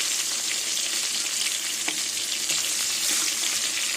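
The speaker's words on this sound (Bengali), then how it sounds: "তেল গরম হয়ে গেছে এবার মাছগুলো তেলে ভেজে নেব" Rohu fish frying in hot oil gives off a close, even, bubbling sizzle with small crackles throughout, no one talking.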